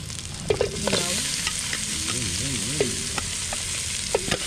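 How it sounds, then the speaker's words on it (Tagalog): Punai (pigeon) meat frying in a pan at an outdoor hunt-and-cook, a constant close sizzle with repeated clinks and scrapes of a spatula stirring the meat, no voices. "lagyan na natin yung karne ng punay"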